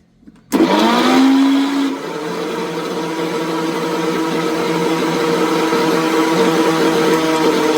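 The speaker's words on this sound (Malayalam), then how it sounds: "ഇനി ഇത് നന്നായി വെള്ളമില്ലാതെ ചതച്ചെടുക്കട്ടെ തേങ്ങ ചതച്ചെടുക്കട്ടെ" A mixer grinder crushes coconut with green chillies and no water. Its motor starts abruptly into a loud whirring drone, dips in pitch as the load settles, then grinds on steadily and continuously.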